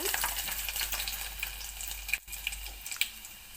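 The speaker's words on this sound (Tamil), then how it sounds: "இப்போ இதில் பூண்டை வந்து போட்டுக்கிறேன்" Garlic and fenugreek sizzle in hot oil for tempering, a quiet steady frying crackle with occasional sharper pops and stirring clicks, no talk.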